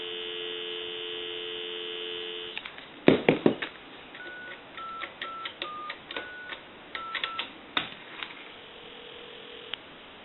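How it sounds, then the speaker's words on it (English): A steady payphone dial tone hums, then clicks and a quick run of short touch-tone dialing tones follow before a quieter tone returns near the end. "Give you some dial tone."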